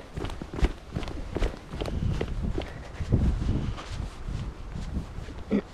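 Footsteps of a runner on a forest path on Sobieszewska Island, a steady quick rhythm of thudding strides close to the microphone with light rustle and wind, no talking.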